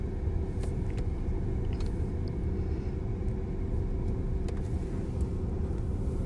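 A long freight train rolling past a crossing, a low continuous rumble with faint clanks and rattles scattered through, steady and unbroken from start to finish, heard from nearby without voices.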